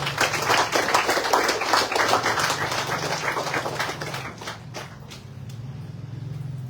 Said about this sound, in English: let's reach out and give them a big round of applause